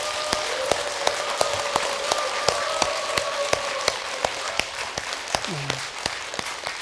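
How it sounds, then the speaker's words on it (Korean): A congregation at a Buddhist family precept ceremony in Seoknimsa temple, Uijeongbu, claps for the elder monk in sparse, evenly spaced claps, with a faint voice murmuring underneath. "노스님한테 박수를 한번 보내주세요"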